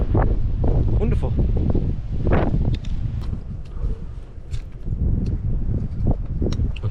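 Strong wind buffets the microphone outdoors on a walk to the elephant trees, a steady loud roar under someone talking nearby.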